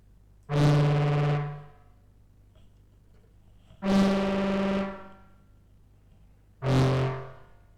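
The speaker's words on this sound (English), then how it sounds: "That is beautiful reverb." Three separate synth tones fed back into a filter ring out, each sustained and slowly fading in a washy reverb tail, with quiet gaps between them.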